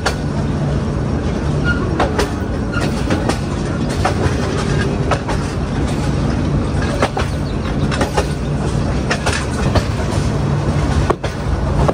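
A train passes close by on a railway line beside a road, a loud continuous rumble with rhythmic clickety-clack of wheels over rail joints throughout.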